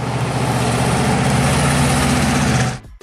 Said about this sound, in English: Under the hood roared a 400 Ram air engine, delivering an exhilarating 345 horsepower that made every drive feel like a victory lap.